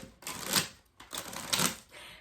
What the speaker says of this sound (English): I'm gonna quick give my deck a shuffle.